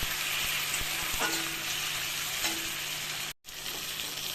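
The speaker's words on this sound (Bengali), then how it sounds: "পটলটা দিয়ে দেবো দিয়ে একটু ভাজা ভাজা করে নেব" Sliced pointed gourd frying with spices in a pan, a loud, continuous sizzle with a few soft knocks of stirring, cut briefly by a short gap near the end.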